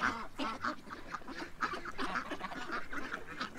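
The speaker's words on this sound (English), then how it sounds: "that poor ducks are totally freaked out about the blue heron" A flock of ducks frightened by a blue heron quacks and honks in repeated overlapping bursts, busy and fairly close, with goose-like honks mixed in.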